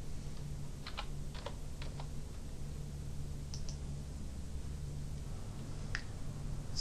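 Quick bursts of computer keyboard typing during medication reconciliation data entry, a few scattered clusters of soft clicks over a steady low hum, with no talking.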